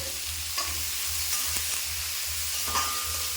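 Salted onions saute in a pan with a soft, steady sizzle and hiss, broken by a few faint stirring scrapes. No voices can be heard.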